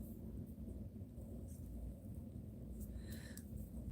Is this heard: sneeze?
no